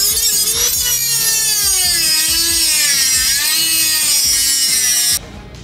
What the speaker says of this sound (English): I was able to drill off this little piece, which is very hot, using this cutter Dremel tool